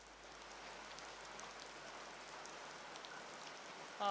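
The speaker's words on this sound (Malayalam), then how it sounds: "മഴ പെയ്യുന്നുണ്ടല്ലോ, കുടചൂടി നിൽക്കുകയാണല്ലോ." Rain falls steadily and softly on an umbrella during a heavy downpour in Idukki, a faint even patter of drops with no voices, ending in a sudden louder thump.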